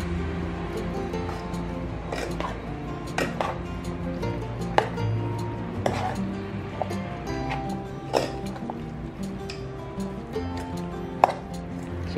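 Dinakdakan mixture being stirred by hand, with irregular wet clicks, taps and scrapes close by over a low background hum.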